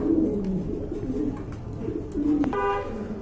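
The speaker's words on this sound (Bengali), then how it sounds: "মাশাআল্লাহ এক জোড়া গোলাপ জুটির বোম্বাই কবুতর আছে" A pair of Bombay pigeons coo nearby in several soft, low, rolling coos spaced across a few seconds, with a brief tooting tone cutting in near the end.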